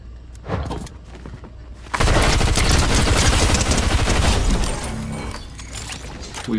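Hip-fire gunfire in Fortnite, a loud dense burst of rapid shots that starts abruptly and holds steady for several seconds, with mechanical clatter and a few lighter clicks before it.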